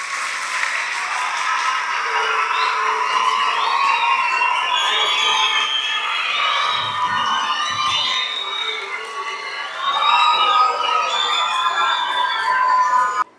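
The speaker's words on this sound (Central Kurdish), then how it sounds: "چەپڵەکانتان" A lively crowd claps and cheers, with high rising and falling voices calling out over continuous applause that swells louder near the end.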